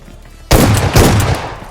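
Shotgun fire in the battle royale game PUBG/BGMI: after quiet, two loud, close booming blasts land about half a second apart, their roar running together before dropping off.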